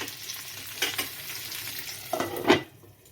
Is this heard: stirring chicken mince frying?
yes